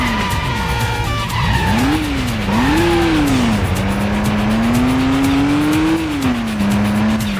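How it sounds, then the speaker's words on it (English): Car in the PS2 game Stuntman doing a handbrake turn, engine revving loudly with pitch swinging up and down as tires squeal and skid in a long screech, continuous and close. "Up the steps. Handbrake turn."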